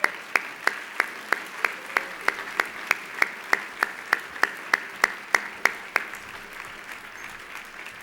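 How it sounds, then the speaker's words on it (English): An audience applauds at a community event, though the sound is a steady, evenly spaced series of sharp claps, like one or a few people clapping in rhythm, fading toward the end. "Please give him a round of applause as he comes."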